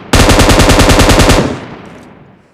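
Loud, rapid automatic gunfire from a battle royale video game, an unbroken burst of closely spaced shots lasting over a second and then tailing off into a fading echo, with no voices.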